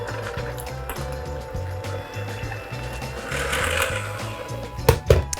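Electric mixer creaming two sticks of butter for whoopie pies: a low, steady motor whir with a pulsing rhythmic chug, up close, ending in a couple of louder knocks.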